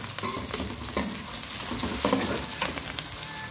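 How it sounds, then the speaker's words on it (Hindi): Onions fry in a pan for chicken and potato curry, a steady sizzle broken by occasional stirring scrapes and light clatter, close and fairly loud throughout. "यहाँ पे जी कर रहे हैं प्याज फ्राई"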